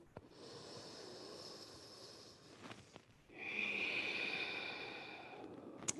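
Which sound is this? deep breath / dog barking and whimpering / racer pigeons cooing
deep breath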